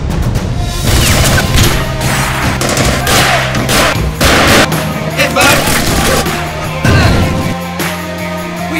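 Gunfire in an action thriller trailer: loud, dense volleys of rapid shots and crashes, layered with a music score and booming effects, with voices talking in between.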